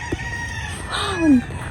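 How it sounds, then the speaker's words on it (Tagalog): A rooster crows loudly and close among many chickens on a farm resort in Tarlac, a single rising then falling call over faint background clucking. "Eto guys, sobrang daming manok."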